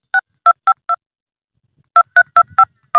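Nine short telephone keypad tones in two quick runs while entering a landline number for a gas booking line, evenly spaced beeps with a pause between groups, clear and close.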